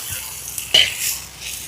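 Fried chicken pieces tipped into a hot pan for chicken thoran and stirred, giving a brief near clatter and sizzle burst amid steady frying hiss, no voices.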